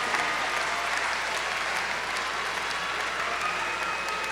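A graduation audience at a fall commencement applauds, a dense, sustained wash of many hands clapping at a steady level for several seconds without pause.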